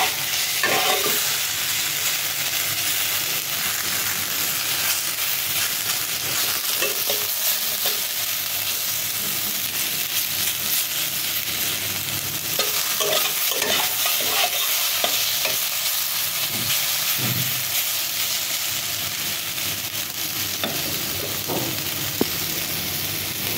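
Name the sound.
food frying in a pan and being stirred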